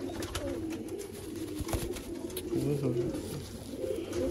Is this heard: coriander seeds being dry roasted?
no